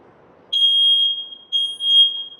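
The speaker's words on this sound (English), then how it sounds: "It's very important that you test your smoke alarms once a month." A shrill smoke alarm sounds in two loud, piercing beeps, one long and one shorter after a brief gap.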